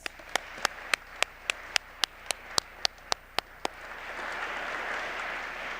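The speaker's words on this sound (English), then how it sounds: "Let us again give them a round of applause" At an arts and humanities awards ceremony, a dozen crisp, evenly spaced claps ring out close by. They then give way to a soft, diffuse wash of distant crowd applause.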